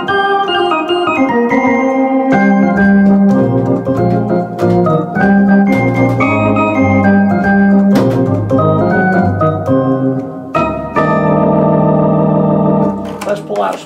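Jazzy Wersi Helios organ with percussive attack on each chord, a bright clicky onset over sustained drawbar tones, played steadily in a flowing run of chords.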